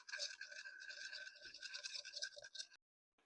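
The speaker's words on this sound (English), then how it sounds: "We whisk." Gochujang sauce mixture being whisked by hand, a quick, steady scraping and tapping of whisk against bowl for under three seconds, close and fairly soft, then it stops abruptly.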